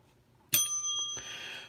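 A bicycle bell rings twice up close, a sharp bright strike with a lingering metallic ring followed by a second ding, heard alone in a quiet room.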